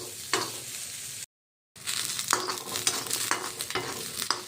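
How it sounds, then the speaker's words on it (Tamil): Small onions (shallots) sauté in a pan without oil for tomato chutney, giving a soft sizzle under repeated scraping stirs of a utensil, with a brief silent gap early on. "குட்டி வெங்காயம் போட்டாச்சு, வதக்குறேன்."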